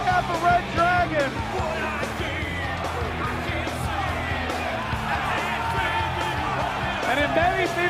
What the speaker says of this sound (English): Kelly, listen to this sold-out crowd.